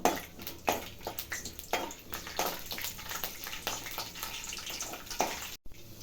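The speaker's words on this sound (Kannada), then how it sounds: "ಎಣ್ಣೆ ಸ್ವಲ್ಪ ಚೆನ್ನಾಗಿ ಕಾಯಬೇಕು ಕಡಲೆಬೇಳೆ ಹಾಕ್ತಾಯಿದ್ದೀನಿ" Chana dal dropped into hot oil, frying in a pan for rava uppittu, with a steady, busy crackling sizzle that lasts throughout at close range.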